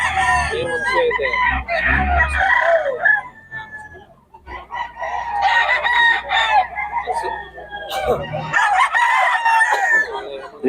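Fighting cocks crow repeatedly and cluck at close range, several loud overlapping calls with short pauses, while people talk in the background.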